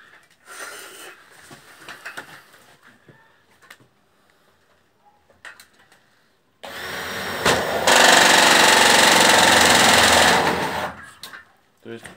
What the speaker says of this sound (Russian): И сейчас саморезами насквозь прокручиваем два конька и все уголки.